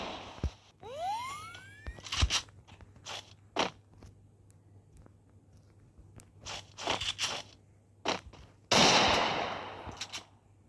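Sharp bursts of gunfire from a shooting video game, with scattered single shots and short rapid volleys that vary in loudness. A rising whooshing sweep comes early, and a louder noisy crash arrives near the end.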